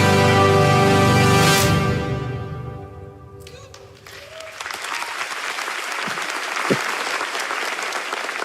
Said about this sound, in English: A round of applause for math.